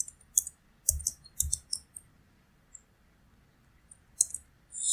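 A short burst of computer keyboard keystrokes as a password is entered, a quick cluster of sharp clicks followed by a pause and then a few more taps, close and fairly quiet with no talking.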